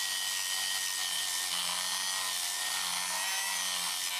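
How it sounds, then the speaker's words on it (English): A small drum sander with 120 grit on a rotary tool grinds the inside of a metal throttle body, producing a steady, loud high-pitched whine and abrasive rasp close up with no pauses. "once I've finished up with the little drum sander on the rotary tool itself here"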